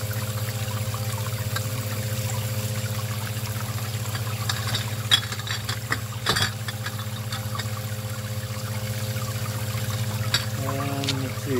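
Water squirting up inside a bottle on a homemade bottle washer, a continuous spraying hiss over a steady low pump hum, with a few brief knocks partway through.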